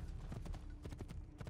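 A horse gallops in the video game Assassin's Creed II, quick rhythmic hoofbeats pounding close and fairly loud over a short stretch.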